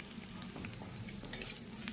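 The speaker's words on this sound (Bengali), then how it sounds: "আমি এখানে 2টো ডিম দিয়ে ঝুড়ো ঝুড়ো করে ভেজে নিচ্ছি" Eggs being scrambled and fried with vegetables for home-made egg chowmein, with steady close sizzling and a spatula stirring and scraping in the pan, no voices.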